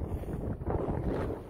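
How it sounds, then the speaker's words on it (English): Strong wind blows outdoors in the desert near Holbrook, roaring and buffeting against the microphone without a break. "It is windy as hell"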